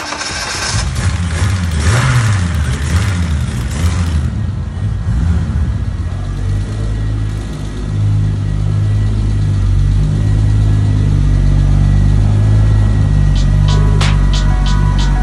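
A BMW E30 turbo engine idles and then revs gently with a soft, subdued tone, running steadily and loud up close. A few faint clicks come near the end.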